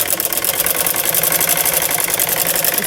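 A sewing machine runs steadily in fast, even stitching rhythm, loud and close with no pauses, while a seam is sewn on a summer suit or kurti.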